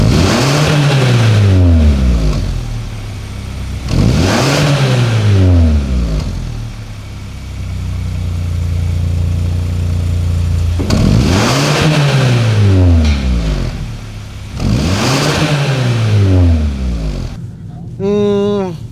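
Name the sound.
car exhaust rumble while revving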